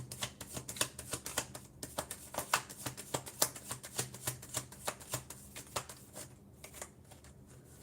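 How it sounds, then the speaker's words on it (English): A deck of tarot cards is shuffled by hand in quick repeated riffles, a crisp flutter of card edges in rhythmic bursts, close and fairly quiet, with a short pause near the end. "while we shuffle the tarot"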